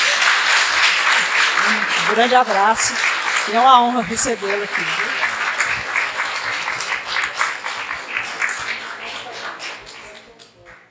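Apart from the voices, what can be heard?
audience applause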